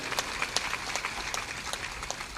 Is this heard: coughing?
no